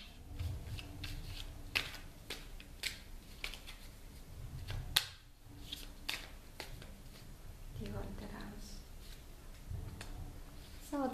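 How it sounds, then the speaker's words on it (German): Oracle cards being shuffled by hand during a fairy oracle reading, giving soft papery riffles and flicks scattered across the stretch, with a voice talking quietly in places. "So, mal mischen."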